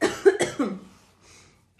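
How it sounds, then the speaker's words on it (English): Several quick, harsh coughs in a row, close to the listener, followed by a short quiet pause. "Sorry about the coughing."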